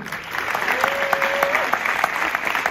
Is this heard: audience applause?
yes